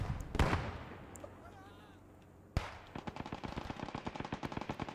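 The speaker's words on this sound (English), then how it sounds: "Looks like we have another strafing run here by a BF-109." Machine gun fire from a BF-109 strafing run in the World War II shooter Squad 44, set at Utah Beach on D-Day: a single sharp shot, a lull, then a sudden dense burst of rapid repeated gunfire continuing loudly to the end.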